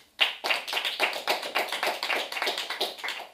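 Sparse, hesitant applause from an audience at a French-language talk: a small number of hands clapping in an uneven rhythm, fairly close and moderately loud, with no voices over it.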